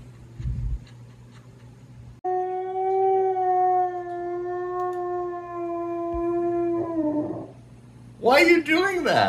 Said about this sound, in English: Why are you howling at your wolf?